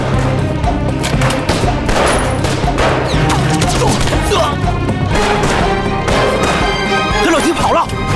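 Gunfire in a war film battle scene set around a bandit mountain stronghold, a dense, continuous clatter of shots and crashes mixed with shouting voices and score throughout.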